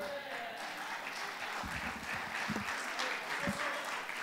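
An audience applauds Senator Botana at a public accountability event, a dense, steady wash of many hands clapping with a few louder nearby claps, sustained from start to finish with some faint voices mixed in.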